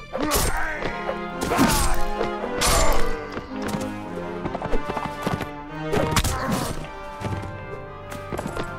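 A horse galloping in Mount & Blade Warband: rapid, rhythmic hoofbeats close by, mixed with sharp weapon whacks and thuds over a steady tonal game soundtrack.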